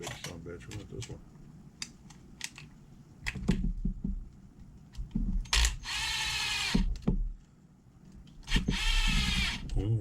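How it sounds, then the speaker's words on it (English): A power drill or driver whirs in two sustained bursts of a few seconds each while a Kyosho MP10T nitro RC buggy is assembled, with talk and small handling clicks in between. "Switch out for the power tools"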